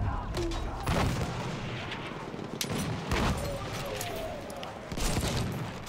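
Vetterli infantry rifle shots fired from the hip in the Battlefield 1 video game, several loud cracks spaced a second or two apart over a dense wash of distant battle gunfire and explosions.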